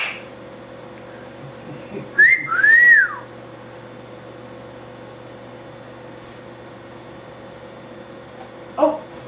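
A person whistling to call a dog, a single short two-note whistle rising and falling, clear and fairly close over a steady indoor hum, followed by quiet.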